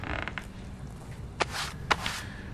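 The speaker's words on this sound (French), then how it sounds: "Et on va ouvrir la porte." Door opening in the Hello Neighbor video game, with a soft creak and two sharp clicking latch sounds over a low steady background hum.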